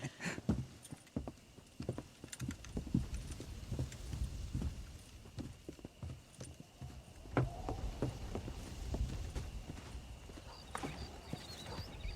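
Horse hooves clip-clop at an uneven walking pace in the video game Red Dead Redemption, soft and moderately close, with faint game ambience and no talk.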